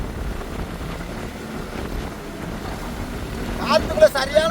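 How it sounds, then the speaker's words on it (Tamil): Strong wind blows over a fishing boat out at sea, a steady broadband roar with surging gusts, and a brief louder burst near the end. "காத்துக்குள்ள சரியான காத்துக்குள்ள கிடக்கிற மக்களே."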